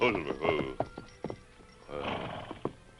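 A horse whinnies and its hooves clop as the rider reins to a stop on the trail, loud and close, with a second whinny and hoof thuds following after a short pause.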